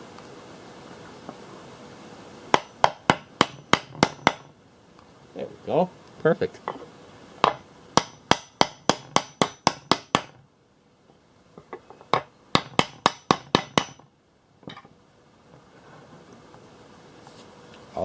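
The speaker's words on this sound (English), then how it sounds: "I think this one will go in with just a little bit of smacking with the hammer." Sharp hammer blows on a block of wood seating a part in a Powerglide transmission pump, struck in quick bursts of five to eight hits with pauses between, close and loud, with a voice speaking briefly.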